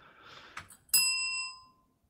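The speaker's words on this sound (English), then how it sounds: "I didn't ding the bell for any reason." A small bell, like a bicycle bell, is dinged once, a bright clear ring that decays over about half a second after some light handling noises.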